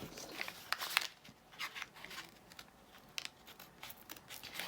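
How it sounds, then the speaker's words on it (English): Scissors snip through paper pages of an altered book, a handful of quiet, crisp cuts and rustles spaced irregularly, close up. "I'm going to use scissors so it's neat"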